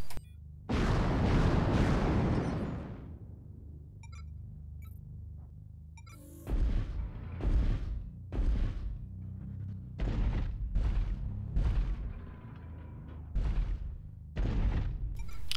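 Heavy booming shots from an AC-10 autocannon in Mechwarrior Online: one long rumbling blast followed by a series of sharp, evenly spaced shots, loud and close.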